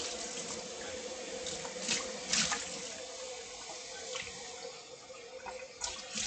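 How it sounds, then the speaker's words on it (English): Tap water runs continuously into a kitchen sink while something is rinsed under it. The flow is close and steady, with brief splashy spikes as the item is moved through the stream. "I'm gonna rinse this."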